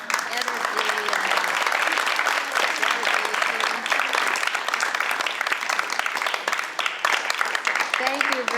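Applause from a voters forum audience for the candidates, a steady dense wash of clapping lasting several seconds, with a few voices faintly heard beneath it.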